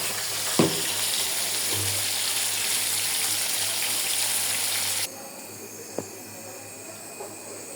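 Koi fish fry in hot oil with a steady hissing sizzle that drops suddenly quieter partway through, with a few sharp knocks scattered across it.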